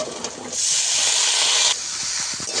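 Shrimp and ginger frying together in a pan: a loud, bright hiss of sizzling oil swells up abruptly, holds steady for over a second, then drops back to a softer crackle with a few light clinks.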